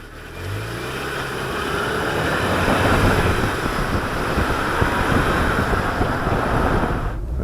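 A Ford Sportka with a 1.6 litre engine being driven on a test drive, heard as a steady, loud broadband road and wind roar with a low engine tone rising in pitch at the start, continuous throughout.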